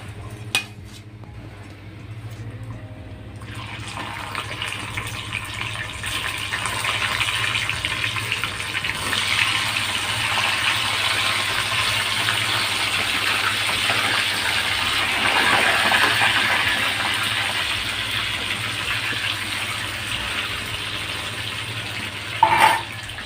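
Chicken pieces frying in hot oil in a home kitchen, a continuous broadband sizzle that swells after a few seconds and holds steady, with a brief utensil clink at the end and no talk.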